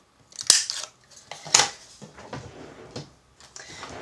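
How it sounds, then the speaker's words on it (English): A corner rounder punch clips the corners of pink card in two sharp snapping crunches about a second apart, followed by softer paper handling sounds close by. "I'm just going to round the corners off on the pink card"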